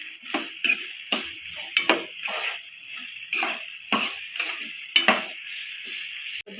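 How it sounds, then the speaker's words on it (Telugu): Carrot, beetroot, green chilli and onion fry in oil with curry leaves while being stirred, a steady sizzle broken by repeated scraping and clinking of a utensil against the pan. "ఇప్పుడు కరివేపాకు వేసాము. అవన్నీ బాగా వేగాలి ఆయిల్లో."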